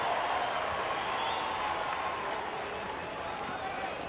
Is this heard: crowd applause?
yes